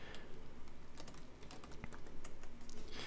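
Computer keyboard keystrokes for command and bracket-key shortcuts while editing layers in Affinity Photo: a busy, irregular patter of close, light key taps running throughout, with no talk.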